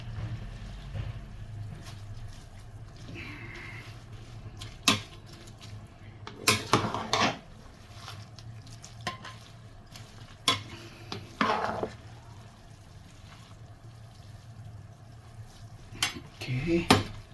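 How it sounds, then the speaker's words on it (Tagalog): Seafood sotanghon guisado is stirred in a pan with a utensil, giving soft scraping and clattering strokes in irregular bursts over a steady low sizzle, with occasional talk. "Para mapantay yung luto niya guys, kaya hinahalo natin talaga."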